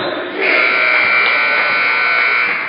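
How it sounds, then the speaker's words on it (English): A basketball game buzzer at a junior varsity high school tournament sounds as one loud, sustained electronic tone lasting over two seconds, with faint arena murmur beneath. "And there's the buzzer."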